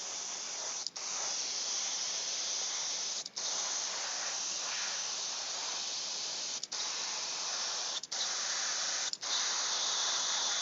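An airbrush with a minor clog sprays paint onto a Marvel Crisis Protocol miniature, giving a loud, continuous hiss that briefly drops out a few times as the flow stutters.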